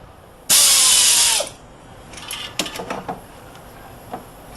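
A ratchet turning in a spark plug: one loud, dense burst of rapid pawl clicking lasting about a second, then a few softer, scattered clicks and taps close by.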